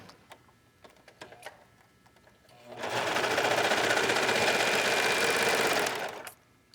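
A serger sewing machine stitches a knit jacket, starting with a few light clicks and then a steady, loud, rapid mechanical whir for about three seconds before stopping abruptly.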